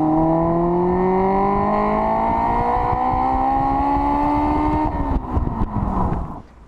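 A car engine revs loudly with a steadily climbing whine, then drops off abruptly and sputters with a few rough pops before fading out.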